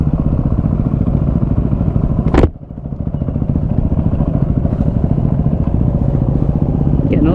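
A Yamaha WR250R rally bike rides off-road through mud with a loud, close, steady engine drone that dips sharply for a moment partway through, then builds back to a constant throaty roar.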